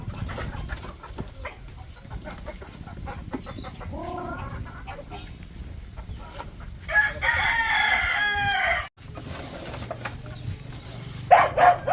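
Pet chickens and a rooster being moved to a new house: a rooster crows loudly and up close several times among clucks and scattered hen calls, with rustling and handling noise.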